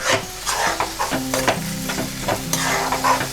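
Tomato and ginger paste frying in a pan over gas while being stirred, with brisk scraping strokes over a constant close sizzle and no voices.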